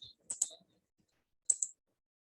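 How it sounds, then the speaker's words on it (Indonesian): Two short bursts of sharp clicks and taps from someone typing on an on-screen keyboard with a mouse, quiet and close, with a pause between the groups and no talking. "Ini masih pakai keyboard yang di layar nih"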